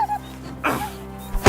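Dog in the medieval game Kingdom Come Deliverance 2 letting out a short yelp or whimper after being struck, a brief sharp cry over a faint sustained game background with a soft thump at the end.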